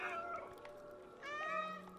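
Cats meow in a video game, with a couple of drawn-out, high meows close together rising over a steady game background.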